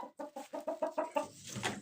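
A hen clucks in a quick run of about seven short, evenly spaced notes close by, ending in a softer rising call.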